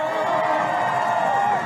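A large crowd of thousands of fans cheers and whoops steadily at the start of the Iditarod sled dog race in Anchorage, a dense, continuous roar that stays loud throughout.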